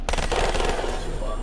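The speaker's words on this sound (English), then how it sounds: "This gun sounds like popcorn popping." An automatic gun fires in the Call of Duty: Black Ops III video game as a rapid, loud burst of rattling shots that runs continuously through the short moment.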